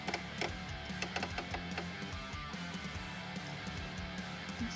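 A sewing machine stitches a zigzag around the outer circle of eco-dyed fabric for a junk journal, a quiet rapid mechanical whirring in short runs with brief pauses.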